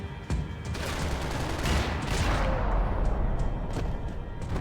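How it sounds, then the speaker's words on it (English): Sustained gunfire from the video game Max Payne 3, set over Hoboken: a dense, loud fusillade of overlapping shots and thuds rolling continuously throughout, with sharper individual cracks standing out. "Gunfire over Hoboken."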